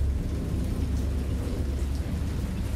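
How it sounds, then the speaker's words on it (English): Steady rain with low rumbling thunder in a Lovecraft narrative video game, a dense continuous wash of storm noise at moderate level with no voices. "Now it's a storm."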